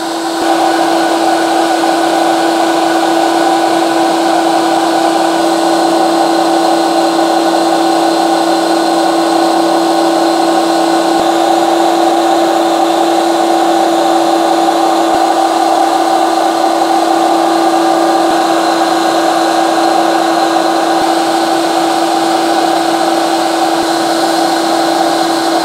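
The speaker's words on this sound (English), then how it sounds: "the paddle is moving a lot slower. It's spinning, it's not going down as fast." A Ninja CREAMi Deluxe ice cream maker's paddle spins slowly through a slushie, giving a loud, unbroken motor whir and hum that holds steady for the whole stretch with no voices.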